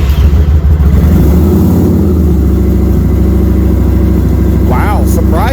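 A stock-exhaust 2018 Kawasaki Vulcan 900 Custom motorcycle engine idles and revs close by with a deep, steady, throbbing tone that stays loud throughout.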